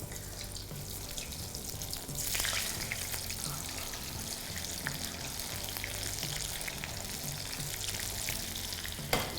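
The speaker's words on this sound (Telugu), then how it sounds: "ఇప్పుడు ఈ కార్న్ని మనం నూనెలో లైట్గా ఫ్రై చేసి కుక్ చేసుకుంటాం." Corn fries in hot oil with a dense, continuous sizzle and crackle, close and fairly loud, with no voices.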